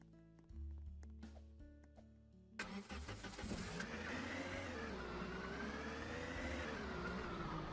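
A Jeep's engine starting in the video game Lumber Tycoon 2: a low idle followed by a crank that catches into a loud, steady running engine hum.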